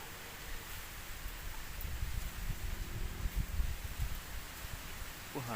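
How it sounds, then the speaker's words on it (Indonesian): Strong wind gusts roar in the open during a honey bee harvest with smoking of the hive, a steady rushing noise swelling louder midway, with no voices over it. "Wah, anginnya kencengnya sahabatku."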